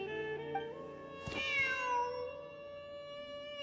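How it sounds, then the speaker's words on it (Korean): A cat in the Genshin Impact video game gives one drawn-out meow, clear and fairly close over soft, sustained tonal game sounds. "진짜로 고양이가 있잖아."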